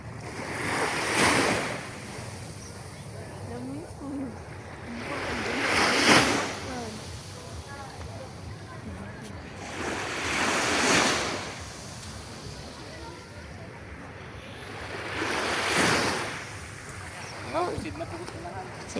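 Sea waves at a beach, breaking in four slow, regular surges, each swelling and fading over several seconds, with wind rushing across the microphone between them.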